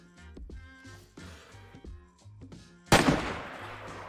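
A single sharp, loud gunshot from an M4 rifle in the DayZ video game cracks near the end, following a quieter stretch of low music and ambience, with a brief decaying tail after the blast.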